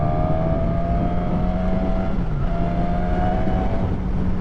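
A Suzuki 1000 Katana engine on a test ride holds a steady, loud drone throughout, with a brief dip and shift in pitch midway, like a gear change or throttle change, and no speech.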